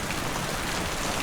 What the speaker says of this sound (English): it was just heavy rain